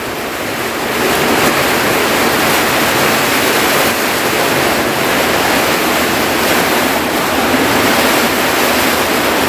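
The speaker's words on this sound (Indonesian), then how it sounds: "Teman, hujannya seperti malam kemarin" Heavy rainstorm pouring onto a hut at night, a loud dense steady roar of rain that swells in after the first second and holds without a break, no talking.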